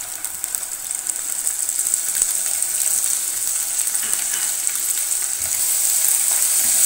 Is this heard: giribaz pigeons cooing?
no